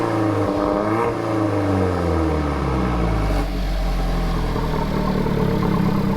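An Alfa Romeo 4C engine with a centerline exhaust rumbles loud and close, revving up and settling back with a deep, throaty drone and no talking.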